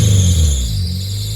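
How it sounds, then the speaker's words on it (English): Squeaking fan belt on an idling Honda Prelude engine, a loud continuous high squeal held over a low steady engine drone, up close and without talk. "there's a big squeak coming from the fan belt that we've got to sort out as well"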